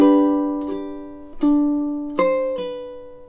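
A ukulele plays measure 4 of a piece, with four plucked notes and chords ringing out one after another and decaying between them, close and clear with no voice.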